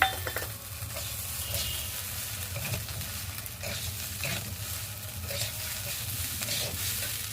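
Chopped tomatoes hit a hot pan for khichuri, giving a steady sizzle with a spoon stirring and scraping against the metal, a few light clinks of utensil on pan, no voices.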